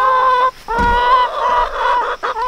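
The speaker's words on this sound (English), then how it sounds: "Sorry if you can't hear me over all the chickens." Hens cluck and squawk up close in a busy, continuous chorus, with sharper calls breaking through.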